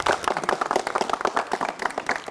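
A studio audience at a comedy game show claps in a brisk, fairly close round of applause, individual hand claps audible in a lively continuous patter throughout.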